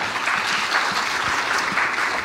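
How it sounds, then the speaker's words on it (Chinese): Applause from a conference audience at a Python developer event thanking a speaker, dense continuous clapping from a room of many people, fairly close and steady for the whole stretch. "那我们用热烈掌声感谢Shuhsi 今天的分享"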